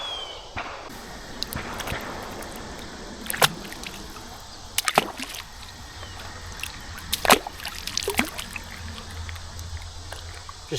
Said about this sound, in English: pan this out